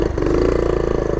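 A 1970 Honda CT70 Trail-70 motorcycle engine runs close and loud in a brief burst, a steady buzzing putter with rapid even firing pulses and no talk.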